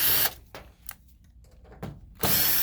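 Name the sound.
removing screws from Toshiba e-studio copier back cover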